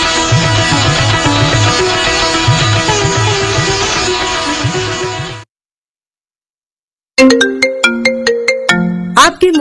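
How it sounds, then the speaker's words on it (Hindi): Loud electronic mobile phone ringtone for an incoming call, a busy repeating melodic tune that cuts off into silence, then starts again with a sharper plucked phrase. "आपके मोबाइल पर आती है एक कॉल"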